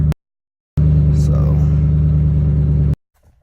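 A 2007 Ford Mustang GT V8 returned to stock tune runs at a loud, steady, throbbing idle for about two seconds, starting and stopping abruptly, after a brief sharp burst at the very beginning.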